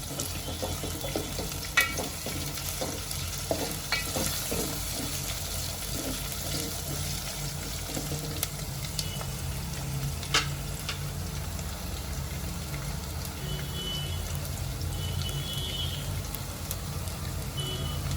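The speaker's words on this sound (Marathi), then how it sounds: "गॅस मी मीडियम फ्लेमवर ठेवला आहे ह्या सर्वांना मी चांगला एकत्र करून घेते" Khichdi ingredients sizzling in oil in a pan over a medium gas flame, a steady soft frying crackle with occasional clinks of stirring, close and continuous, with no talking.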